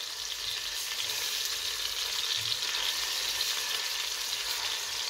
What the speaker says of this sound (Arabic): صافي غادي نقلب هذوك الدجاج